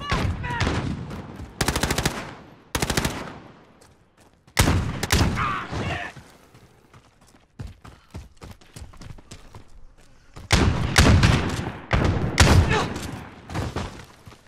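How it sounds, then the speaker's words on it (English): Call of Duty: Modern Warfare gunfire comes in repeated loud bursts and single cracks spread across the stretch, with quieter gaps of ambient noise between the volleys. "Taking fire, man!"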